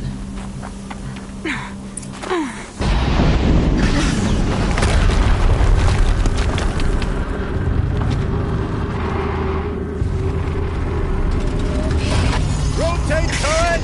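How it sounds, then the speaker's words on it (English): In the video game Horizon Zero Dawn, a deep booming explosion breaks in after a quieter stretch, followed by a sustained loud rumble and mechanical clatter, with a voice talking over parts of it. "Another explosion."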